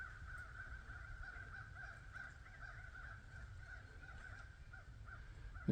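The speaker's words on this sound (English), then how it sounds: "See all those crows?" Crows caw repeatedly over a steady, windy rush of background noise, their harsh calls coming in quick bursts throughout.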